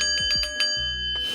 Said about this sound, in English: you'll ring that bell